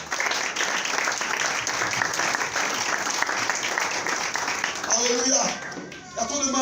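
A church congregation applauds during a French-language sermon, dense steady clapping filling the room for several seconds before fading as a voice begins speaking near the end.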